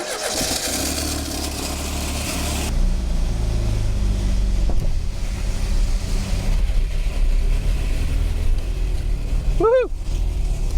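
An old abandoned Triumph Dolomite car's engine runs loud and rough, its low rumble building after a few seconds and holding steady, with a brief whistle-like sweep near the end and some voice sounds mixed in.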